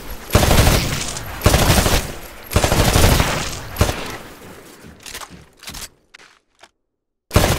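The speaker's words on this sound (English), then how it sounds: "Switch to your rifle. Destroy all of the targets in the shooting range." Rifle fire at a shooting range in the video game Titanfall: several loud bursts of rapid automatic shots separated by brief gaps, then sparser single shots and short silences before one final burst.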